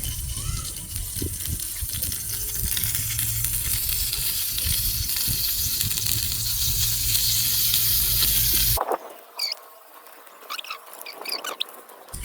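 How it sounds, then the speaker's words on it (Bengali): Fish frying in oil in a miniature wok, a steady close sizzle that runs loud for about nine seconds, then drops to quieter crackles and scattered pops. "এখন আমি মাছ ভাজার জন্য কড়াইটা দিয়ে দিচ্ছি।"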